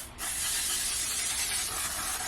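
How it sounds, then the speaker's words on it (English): A spray bottle with a faulty nozzle fires one continuous, loud hissing burst that starts abruptly and holds steady for about two seconds, close up and alone. "I hate when the spray messes up on your bottles because it's like the product isn't gone."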